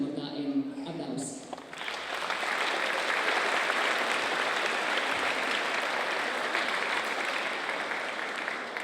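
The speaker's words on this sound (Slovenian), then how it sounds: "Pa tudi zame morda en aplavz." An audience at a folklore group festival breaks into sustained, even applause lasting several seconds after someone speaks briefly at the start.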